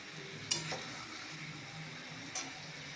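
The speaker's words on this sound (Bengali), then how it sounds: "এরপর এই মশলাগুলোর সাথে ডিম, আলু, সয়াবিনকে একটু ভালো মতো নেড়ে চেড়ে এভাবেই আমি কষিয়ে নেব" Eggs, potatoes and soybean chunks being stirred and fried in spices for an egg soybean curry, a soft steady sizzle with two brief scraping strokes of a spoon against the pan, quiet and close.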